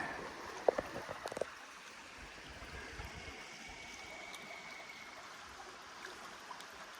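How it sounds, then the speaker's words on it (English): Passage Creek, a trout stream in Fort Valley, Virginia, flows with a soft, steady wash of water, faint and continuous, with a few brief clicks near the start. "it's a perfect trout stream, isn't it?"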